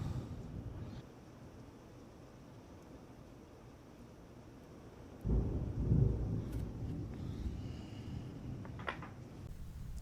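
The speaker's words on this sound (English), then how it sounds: "There's a thunderstorm going on right now, if you can hear it." Quiet rumbling of thunder from a thunderstorm outside, a low steady murmur that swells into a deeper roll midway and lingers, faint and distant with no voices.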